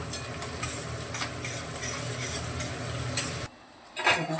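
Okra fries in oil in a pan with a faint sizzle and the light clink and scrape of stirring, and the sizzle suddenly drops away briefly before resuming.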